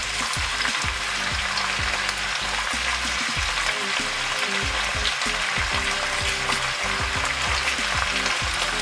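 Three garlic cloves frying with vegetables in a pan, a loud, steady close sizzle with dense crackling and repeated scrapes of stirring throughout.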